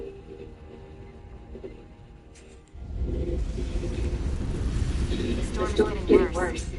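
Storm rumbling in the Star Trek: Resurgence video game: a quiet hum gives way to a heavy, sustained low roar with gusting noise that swells toward the end.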